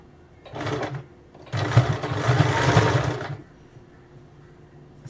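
Sewing machine stitching a blouse seam: a short whirring burst, a pause, then a longer steady run of rapid needle clatter that stops abruptly, close and alone.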